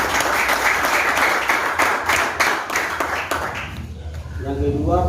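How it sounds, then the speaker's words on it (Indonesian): Applause breaks out for the teachers at an SMTK Nehemia school gathering, a dense wash of clapping for about four seconds that fades as a voice begins speaking at the end. "diberikan tepuk tangan untuk guru kita"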